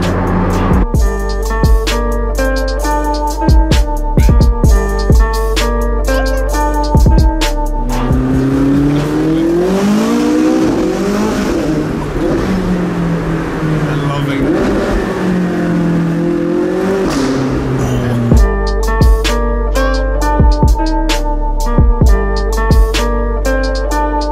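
A Porsche 918 Spyder with a roof scoop idles with a deep rumble, then its engine revs hard and sweeps up and down in pitch before settling back to a throbbing idle.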